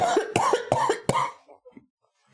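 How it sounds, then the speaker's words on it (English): Four loud, close coughs in quick succession from a person recovering from pneumonia, then a few quieter breaths and throat sounds trailing off into silence. "when you can breathe better is then you cough and you clear all of that icky stuff out"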